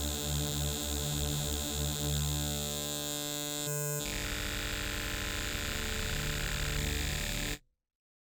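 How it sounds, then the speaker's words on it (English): Vital synthesizer playing a subharmonic stack of four voices: a dense, buzzy sustained tone with layered low harmonics that shifts pitch midway, steady and loud, then cuts off abruptly near the end. "And now if we bring up 4 voices of the subharmonics stack, it sounds like this."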